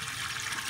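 Water pours into an IBC tank for an in-ground aquaponics setup, a brief steady gurgling rush of filling liquid at moderate level.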